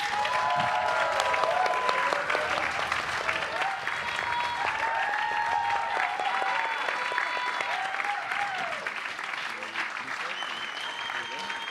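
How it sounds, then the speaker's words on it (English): Audience applause rolls through the room at a live short film premiere at 83 Rivington Street, continuous and moderately loud, with whoops and voices mixed in throughout and some chatter as it tapers toward the end. "Round of applause, please."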